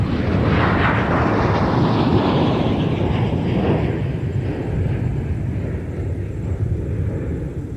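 A Sun Country airliner takes off at Minneapolis–St. Paul airport, a loud roaring jet rush that slowly recedes and thins as it climbs away, steady and without talk.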